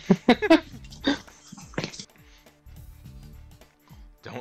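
A dog in a Capcom beat 'em up video game whimpers and yips in a few short, high, strained bursts over quieter background game music and effects.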